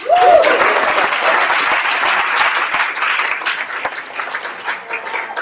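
A conference audience at a civic tech keynote breaks into applause, a loud burst of many hands clapping that holds steady and then thins out into scattered claps.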